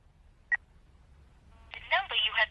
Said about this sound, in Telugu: వాడు కాల్ చేసిన నంబర్కి మళ్ళీ కాల్ చేయి.